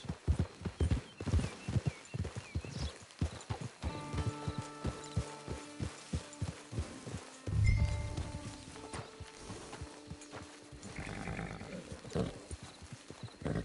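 Horse hooves clip-clop in Red Dead Redemption 2, a steady run of walking hoof beats close by, joined by a horse's snort or whinny midway over low game music.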